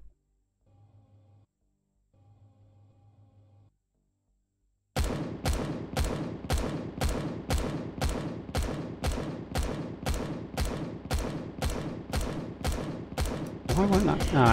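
A shooting turret in the game Empyrion fires a long, evenly spaced burst of sharp, loud shots after a short quiet hum, the rapid rhythm holding steady for about ten seconds.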